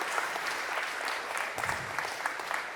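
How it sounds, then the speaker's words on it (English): Steady applause from a crowd at a city council meeting, dense clapping filling the room at an even level throughout. "give them a great big round of applause"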